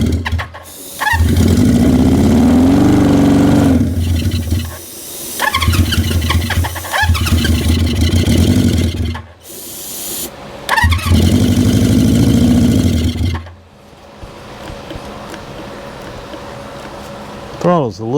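A 1973 Honda CB350 Four motorcycle engine, the throttle sticky, cranks and catches, then revs loudly and close in several long surges, cutting out between attempts, with someone talking in between.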